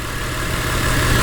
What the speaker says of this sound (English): Okay, engine seems to run in tip-top shape.